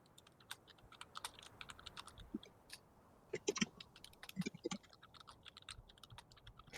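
Several people typing on computer keyboards at a tabletop game session, keys clicking quietly in uneven bursts with no talking.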